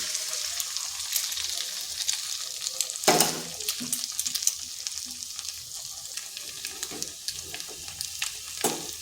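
Two eggs dropped into a hot pan with no added oil set off a loud burst of frying, then settle into a steady crackling sizzle with scattered pops and a second flare near the end.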